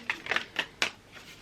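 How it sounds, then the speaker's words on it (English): Tarot cards being shuffled by hand, several quick papery riffling bursts at an uneven rhythm, close and fairly quiet, with no talking. "I'll give it 3 more shuffles."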